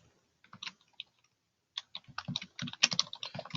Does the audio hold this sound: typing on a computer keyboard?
yes